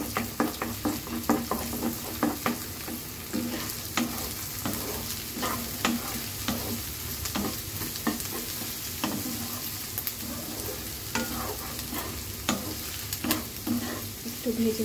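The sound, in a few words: scrambling beaten egg in a frying pan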